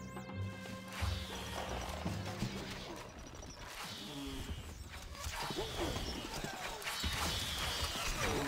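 Horses in the video game Stronghold: Crusader, clip-clopping hooves and an occasional whinny mixed with clashing game sounds over steady background noise.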